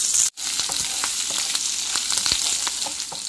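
Cashews, ginger and curry leaves fry together for rava pongal tempering, a loud close sizzle with scattered spoon scrapes and stirring taps throughout, brief dip near the start.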